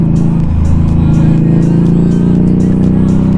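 Motorcycle ridden along a road, its engine a loud, steady droning hum with a slowly rising pitch as it accelerates, close and continuous with faint wind noise over it.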